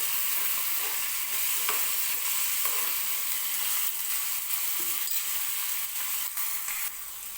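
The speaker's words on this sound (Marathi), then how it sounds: "टोमॅटो सुद्धा थोडासा सॉफ्ट होईपर्यंतच मी तेलामध्ये भाजून घेणार आहे" Tomatoes frying in oil until soft, a dense, continuous sizzle with occasional light stirring taps, close and steady, easing slightly at the end, with no speech.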